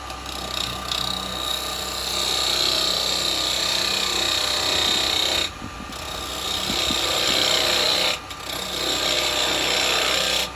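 A spindle gouge cutting a yew vase on a spinning lathe gives a steady, loud scraping and shaving rasp with a constant motor hum, briefly broken twice.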